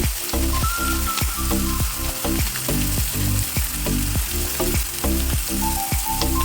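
Grated carrot and ground black pepper frying in a pan, a loud, dense sizzle with rapid repeated stirring scrapes in an uneven rhythm.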